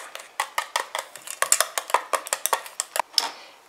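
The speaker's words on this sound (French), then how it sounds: "Je mélange de nouveau." A utensil stirring moisturizing body cream in a bowl, with about twenty quick, bright clinks and scrapes in an uneven rhythm, close and clear, with no talking.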